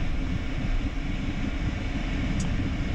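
A Phenom 300 private jet rolls off the runway after landing, its engines giving a steady, loud broadband roar and hiss with no talking.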